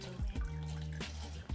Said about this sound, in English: So I'm going to add about 3/4 cup of tap water.